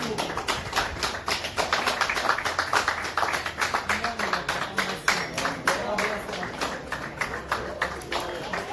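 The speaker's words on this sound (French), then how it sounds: "Et on applaudit tout de fort." Wedding guests at a civil marriage ceremony clap steadily together, a dense, fairly loud burst of many hands that holds throughout with faint voices mixed in.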